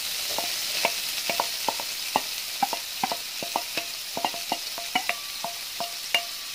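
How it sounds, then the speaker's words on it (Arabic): Onion sautés in a pot with meat and vegetables for a pea and meat stew, as a spoon stirs in quick, regular scraping clicks against the pot over a soft, constant sizzle, close and fairly quiet. "وبعد كده هبدا بقى انزل بالبصله بتاعتي بقى"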